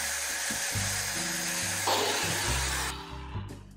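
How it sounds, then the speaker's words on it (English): A power drill bores a pilot hole into bamboo, a steady close whine with shifting motor pitch lasting a few seconds before it winds down. "And now I'm going to drill into a pilot hole."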